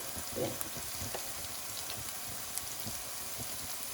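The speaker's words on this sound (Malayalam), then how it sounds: "നമുക്ക് ഇതെല്ലാം ഒന്ന് നല്ലോണം ഇളക്കി മിക്സ് ചെയ്ത് വഴറ്റിയെടുക്കാം" Kerala-style prawn biryani masala is stirred and sautéed in a pan, giving a steady low sizzle with scattered soft scraping and popping throughout, close and fairly quiet, with no voices.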